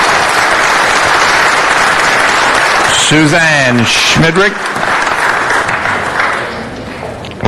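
An audience at a city council meeting claps loudly and continuously for several seconds, the applause fading slightly near the end while a voice briefly calls out a name over it.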